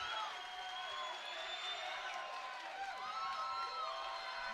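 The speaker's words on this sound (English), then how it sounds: "The crowd preemptively cheering here." Crowd at a Cage Wars cage fight cheering and whooping steadily throughout, a broad roar of many voices with shouts rising above it, sustained and fairly loud.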